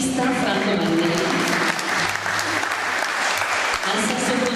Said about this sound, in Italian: facciamo un applauso al bassista Franco Mannelli